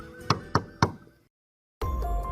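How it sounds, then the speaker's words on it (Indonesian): Three sharp knocks on a wooden door at night, evenly spaced and close, followed by a brief silence and then a steady ambient hum. "suara ketukan pintu dari luar terdengar"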